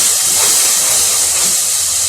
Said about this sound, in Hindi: अभी इसमें शामिल कर दिया है 3 अदद टमाटर नॉर्मल साइज़ के।